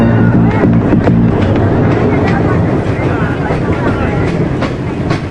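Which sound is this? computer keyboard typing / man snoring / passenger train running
passenger train running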